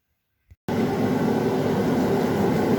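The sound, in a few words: Hell's Forge gas forge burning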